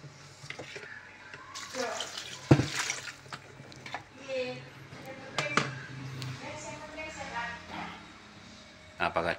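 Water is poured again into the clogged drain of a leaking two-door refrigerator, producing intermittent splashes and trickles up close, with a few sharp knocks and some talking in the background.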